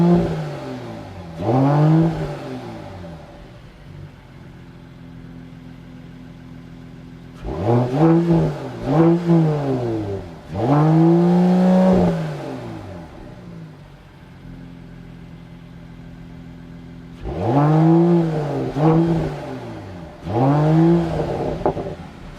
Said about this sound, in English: the 53 actually has a AMG Sport exhaust. So let's go around back and take a listen.